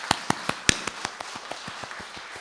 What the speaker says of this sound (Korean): 우리와 함께 하시는 하나님께 우리 감사의 박수 드릴까요?